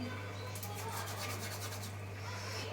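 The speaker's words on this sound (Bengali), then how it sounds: "কালো জিরেটাকে হাত দিয়ে ঘষে নিলে কেন?" Nigella seeds are rubbed between the palms in a short, soft dry rasping burst that comes close but faint, over a steady low hum in a home kitchen.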